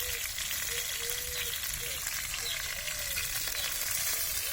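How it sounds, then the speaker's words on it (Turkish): Oil fries on a stove in a village kitchen, a constant soft sizzle and crackle, with faint short chirping sounds in the background and no speech. "Onun yanında ocaklarımız var şekilde yağ seslerimi de duyabiliyorsunuz."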